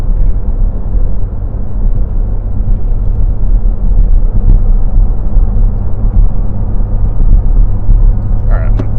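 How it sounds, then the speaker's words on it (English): A 2023 Porsche 718 Cayman GT4 RS on the move gives a loud, constant low engine and intake drone, a deep steady rumble that fills the entire stretch without letting up. "So far, the intake sound is making me grin."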